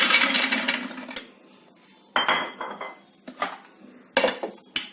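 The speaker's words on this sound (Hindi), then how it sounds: "काजू के बाद हम बादाम डाल लेते हैं।" Nuts tipped into a kitchen grinder jar after cashews, almonds rattling and clinking against metal in a few loud bursts, near and alone with quiet pauses between.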